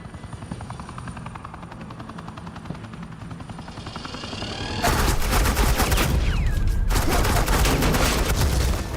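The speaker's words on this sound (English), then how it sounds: "Suppressing fire." Suppressing gunfire in Batman: The Enemy Within bursts in suddenly as loud, sustained rapid fire with a helicopter-like roar, following a quieter rumbling stretch and continuing densely to the end.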